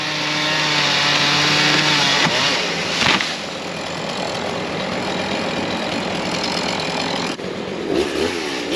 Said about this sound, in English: prepping his chainsaws